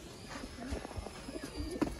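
Pigeons of a Sialkoti breed owned by a fancier coo softly in a loft, low murmuring calls repeating close by with light rustling and movement around them.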